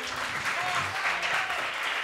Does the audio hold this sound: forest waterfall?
no